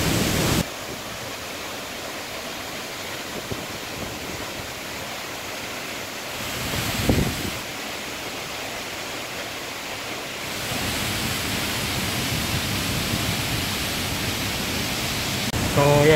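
Puray Falls in Rodriguez, Rizal pours in a loud, continuous broadband rush of falling water, steady throughout with slight swells, close to the listener and heard alone without talk.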